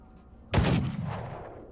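A single loud gunshot in a VR roleplay game, a sudden close crack that fades out in a short rolling echo, with no talking.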